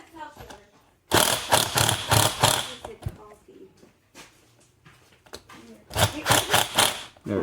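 A driver nut is tightened onto a plastic dished wheel rim of a Traxxas Slash RC car, giving loud bursts of rapid ratcheting clicks in two main runs, with quieter handling noises between.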